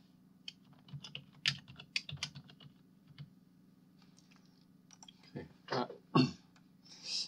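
Computer keyboard being pressed while modeling a stool in SketchUp, scattered soft key clicks and taps coming in short bursts with pauses, close and fairly quiet, with a few louder thumps near the end.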